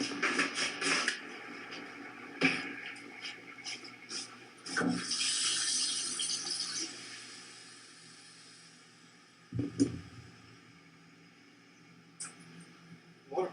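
Water running from a household tap as the pressure fails, a hissing, rushing flow that surges, sputters and drops away in uneven bursts with quieter gaps between.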